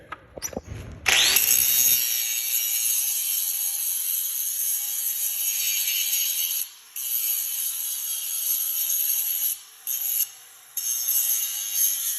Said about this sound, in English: I have to grind these points right here, okay? So I want my angle on my grinder on about that angle.